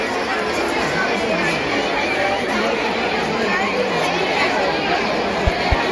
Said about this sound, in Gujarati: ચીઝ ચીલીમાં બહુ જ ભીડ છે.